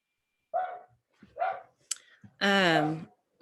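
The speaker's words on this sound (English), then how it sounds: "Sorry, I've got dogs in the background." Dogs barking in the background indoors: a few short, sharp barks spaced apart, then a longer whining, howl-like yelp, all fairly quiet and distant.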